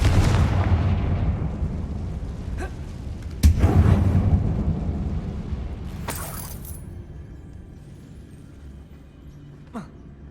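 Confringo blasting spell in Hogwarts Legacy inside a tomb: a deep rumbling explosion with sharp cracking bursts, a second heavy blast around the middle, then several smaller pops as the roar decays to a faint tail.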